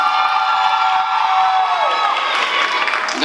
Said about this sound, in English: I'll clap it up for Pretty V